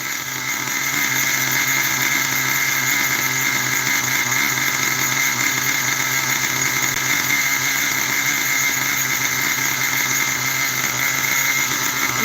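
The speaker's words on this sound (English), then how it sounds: "It's a totally different engine." A freshly repaired engine idles for a long stretch with a loud, even hum and steady mechanical whine, running smoothly at close range with no talking.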